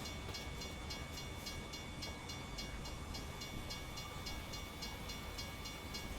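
A train rolls past a truck in the American Truck Simulator game, a steady, continuous rumble and clatter of railcars that holds at an even level throughout, with no talking.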